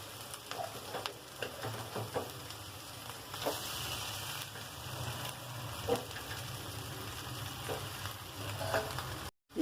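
Cooked rice being stirred into a tomato tempering in a pan, giving a quiet continuous sizzle with soft scraping and clicking stirs, no talking.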